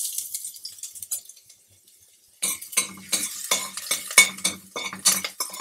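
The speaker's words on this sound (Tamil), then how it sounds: "பூண்டு பொடிசாக கட் பண்ணி வச்சுருக்கதை போட்டுக்கலாம்." Finely chopped garlic hits a little oil in a pan, followed by close, brisk stirring with a utensil scraping and clinking against the pan over a soft sizzle, after a quieter stretch at the start, no one speaking.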